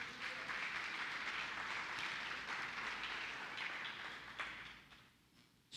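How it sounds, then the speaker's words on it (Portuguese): A church congregation applauds during a sermon, dense sustained clapping filling the room before thinning out near the end. "Dá um aplauso a Jesus aí."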